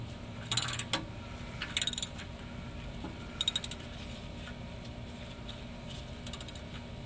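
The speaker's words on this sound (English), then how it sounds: "I'm just using a 3/8 ratchet here." A 3/8-inch ratchet clicks in five short bursts of rapid pawl ticks while tightening oil pan bolts on a Dodge Ram, close and clear over a low steady hum.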